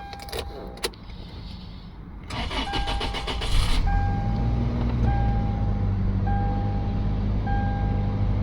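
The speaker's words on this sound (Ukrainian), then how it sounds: "Давайте спробуємо завести автомобіль." A 2011 Toyota Land Cruiser Prado with a 2.7-litre petrol engine is started with a key: ignition clicks and dash chimes, a short cranking whir, then the engine catches into a steady close idle while regular warning beeps continue.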